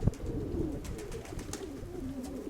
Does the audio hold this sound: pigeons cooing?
yes